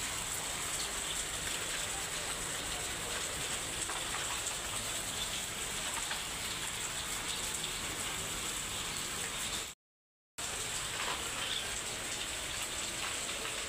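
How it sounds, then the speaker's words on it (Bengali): Heavy rain pours onto a flooded veranda in Bangladesh, a dense steady hiss of drops and splashing water that fills the whole stretch without talk, broken only by one brief silent gap. "এদিকে তো বৃষ্টি পড়তেছে, আর বারান্দা তো পানি।"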